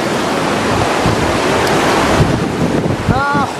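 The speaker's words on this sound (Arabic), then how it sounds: "اموج هادي، ما الا امواج ديال بصح." A fast, swollen flood river in the Moroccan Sahara surges in rough waves, a loud continuous rushing roar with wind buffeting the microphone and a brief voice near the end.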